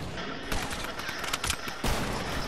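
Rapid bursts of SMG fire from an online shooter video game, loud and close, with sharp volleys clustering around the middle and a heavier burst near the end, no talking over it.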